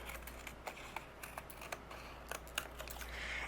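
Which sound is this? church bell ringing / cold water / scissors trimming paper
scissors trimming paper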